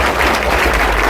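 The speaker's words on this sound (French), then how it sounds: "Merci d'applaudir encore." Wedding guests applauding at a reception, a brief burst of loud, dense clapping from a crowd.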